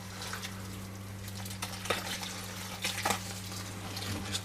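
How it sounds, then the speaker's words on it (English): Water running into a home brewing kettle, a Robobrew all-grain system, heard as a soft, steady trickle and splash close by, with a pump's low electrical hum underneath and a few faint clunks. "Just get a little bit of water up here."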